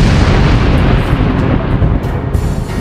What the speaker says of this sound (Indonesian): Dari kejauhan, sebuah ledakan besar jelas terlihat.